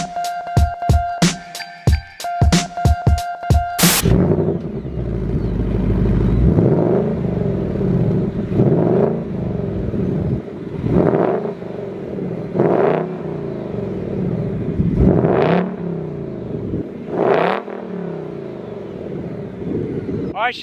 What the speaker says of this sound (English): All right, she sounds good, sounds healthy, and sounds very deep.